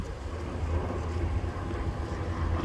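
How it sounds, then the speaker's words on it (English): Steady low rumbling wind buffeting a microphone, a constant broadband roar with no pauses and no voices. "It's windy."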